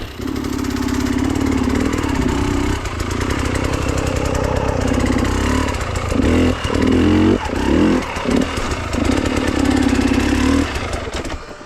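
An enduro motorcycle climbs a steep switchback on a trail, its engine loud and close and revving hard, with throttle surges and brief dips as the rider turns.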